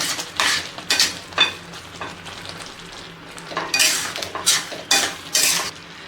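Spoon scraping and clinking against a pan while stirring Maharashtrian dahi chole masala (chickpea curry) with garam masala and chopped coriander, in several uneven bursts with pauses, close and fairly loud, no talk.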